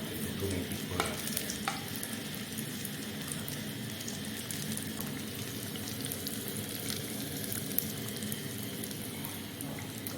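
Fishballs fry in hot oil with a continuous dense sizzle and crackle, close and even throughout, broken by a few faint clinks of stirring and no voices.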